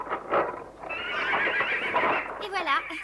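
A horse at a stable whinnies with a rising and falling neigh, accompanied by clip-clopping hooves, close and fairly loud, with a voice speaking briefly before it.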